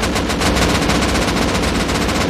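An AK rifle in Rust fires a sustained burst of rapid automatic shots, loud and close, with a fast, even rhythm throughout.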